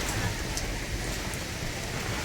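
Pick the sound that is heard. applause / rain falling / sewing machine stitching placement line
rain falling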